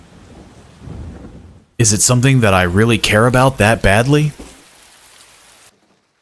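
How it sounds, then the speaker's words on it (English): Rain falling at night in the video game Persona 4 Golden, a soft steady hiss heard alone at first and again at the end, with someone talking over it in the middle. "You can hear it raining outside."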